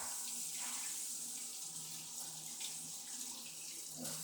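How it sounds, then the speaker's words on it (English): Tap water running into a sink as sticky mixed berry juice is rinsed off hands, a steady soft splashing stream with small shifts as the hands move under it. "Let me rinse my hands off."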